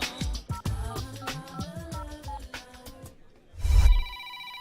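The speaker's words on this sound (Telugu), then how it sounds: "మోగుతున్న ఫోన్ ఎత్తావు గాని నువ్వు ఎత్తుకో" A telephone rings with a repeating melodic ringtone pattern, fairly clear and close. A brief dull thump is heard near the end before the tones carry on.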